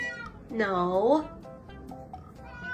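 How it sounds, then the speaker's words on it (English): A pet cat meows once, a drawn-out rising and falling cry, close and clear against a quiet indoor background with faint sounds after. "This is my cat Peaches"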